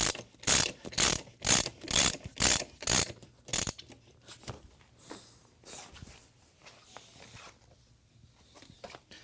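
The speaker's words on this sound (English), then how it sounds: "I'm going to take a 19 millimeter ratchet. And I'm going to break the top one." A 19 mm ratchet breaks loose the top bolt of a Honda CB1000R rear motorcycle shock, seven loud, even ratcheting bursts up close, then quieter scattered clicks and handling noises.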